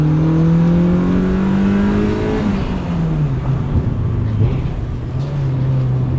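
A sporty car's engine revs hard past 6,000 RPM, a loud sustained drone with harmonics rising and then dropping as it shifts, heard close from inside the cabin with no talking.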